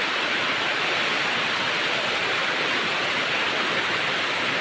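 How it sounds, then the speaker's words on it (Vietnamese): Heavy tropical-depression rain and floodwater rush across rice fields in Vietnam's Central Highlands, a dense, loud, unbroken roar with no voices. "Đây mưa to quá"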